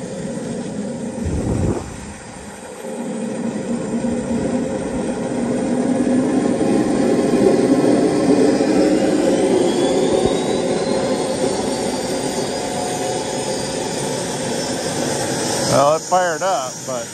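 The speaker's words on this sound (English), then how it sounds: "Well, it fired up" A Jakadofsky Pro Edition model jet engine, running with a hot exhaust temperature, fires up into a continuous loud whine and roar that builds and holds for several seconds, with a sharp burst early on and sputtering at the end.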